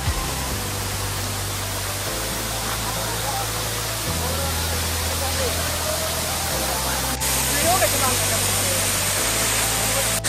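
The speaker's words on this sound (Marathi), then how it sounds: "मित्रांनो इकडे आहे एक मोठा धबधबा" Heavy, steady rushing of a large jungle waterfall fills the scene, a broad continuous roar with a constant low rumble underneath, close and loud throughout.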